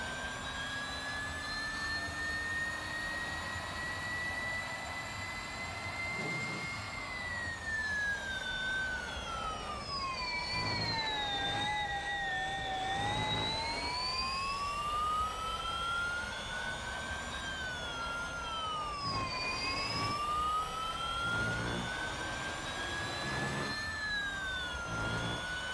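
An electric car in the Real Racing 3 mobile racing game, its motor whining like a Porsche Taycan Turbo S, produces a continuous high-pitched tone that rises and falls with speed over steady road and engine noise.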